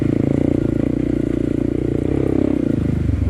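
A Honda CRF301CC motorcycle rides off-road, its engine a loud, close, steady thrumming drone with a rapid pulsing beat and slight shifts in pitch, with clattering and scraping from the terrain.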